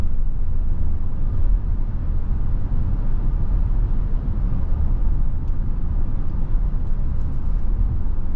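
Steady low road rumble inside a 2024 Hyundai Tucson N-Line Hybrid crossing a bridge, a constant dense drone of tyres and drivetrain at even loudness throughout.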